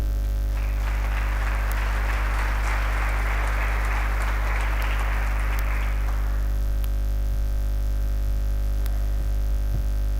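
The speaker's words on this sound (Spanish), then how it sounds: "Un aplauso." An audience breaks into applause for a Jesuit priest. The clapping is steady and moderately loud for about six seconds, then dies away, leaving a persistent electrical hum.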